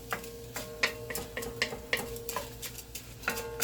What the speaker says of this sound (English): And we're just going to stir that in.